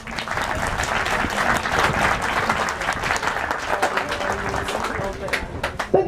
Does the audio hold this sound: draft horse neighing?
no